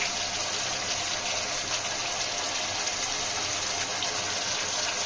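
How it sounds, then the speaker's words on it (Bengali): Water pours into a pan of doi katla, a yogurt fish curry. A steady, even gushing hiss runs close and unbroken throughout. "একটু জল দিয়ে দিলাম দই বাটিটা ধুয়েই জলটা দিয়ে"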